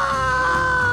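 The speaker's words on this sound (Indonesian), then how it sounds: "tiba-tiba terdengar jeritan perempuan" A woman's sustained high scream in a dramatized Indonesian martial-arts novel audiobook, loud and close, holding steady for about a second with no talking over it.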